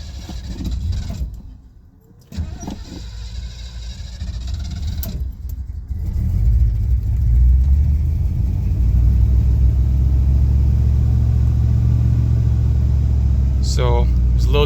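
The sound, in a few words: Mercury car engine starting and running after restoration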